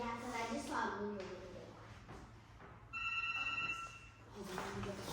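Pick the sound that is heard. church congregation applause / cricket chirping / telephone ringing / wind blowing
telephone ringing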